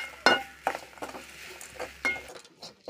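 Grated coconut being stirred with roasted masala in a pan, quiet scraping and clinks of a spoon against metal in several irregular strokes, close and soft, with no talk.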